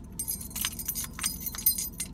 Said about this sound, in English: I have my keys over here, kind of like this